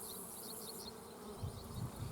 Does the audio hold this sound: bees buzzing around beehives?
yes